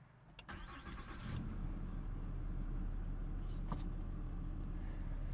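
A 2020 Ram 2500 pickup with a 6.7-liter engine cranks briefly, catches, and settles into a loud, steady diesel idle heard up close with no talking.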